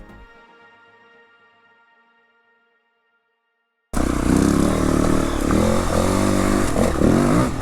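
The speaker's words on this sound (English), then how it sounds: "the BMW G450 X in its natural habitat, no less" A BMW G450 X dirt bike ridden off-road: a fading ring gives way to sudden loud single-cylinder engine roar with rough revving, close and continuous with clattering over the final seconds.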